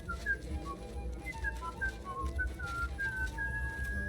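A character in Kingdom Come: Deliverance II whistles a bouncy tune in short melodic phrases over a steady low background of game music and ambience.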